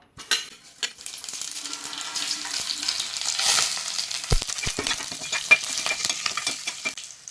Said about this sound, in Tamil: எண்ணெய் காஞ்சிருச்சு இப்போ தாளிக்கிறதுக்கு நம்ம எடுத்து வச்ச எல்லா பொருளையும் ஒன்றா சேர்த்துக்கலாம்